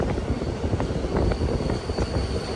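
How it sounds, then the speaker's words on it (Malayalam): Train pulling into Thalassery railway station, a steady loud broadband rumble of rolling stock close by with faint rhythmic knocks, no voices. "തലശ്ശേരി റെയിൽവേ സ്റ്റേഷനിലേക്ക് ഇതാ ട്രെയിൻ എത്തിക്കൊണ്ടിരിക്കുകയാണ്"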